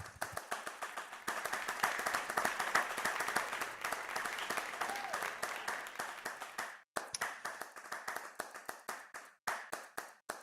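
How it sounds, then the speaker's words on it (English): An audience at an NFT art gallery showcase claps in a warm round of applause, dense at first and thinning into scattered individual claps after a brief pause near the end. "huge round of applause for Creative Owls and this amazing gallery"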